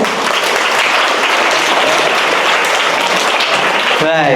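An audience claps steadily and loudly for a student at a scholarship exam awards ceremony. The applause is dense and continuous and stops just at the end.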